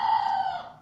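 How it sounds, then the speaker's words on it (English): A rooster crows once, close and loud, a drawn-out call that holds steady and then trails off. "Wait, no, that's a rooster."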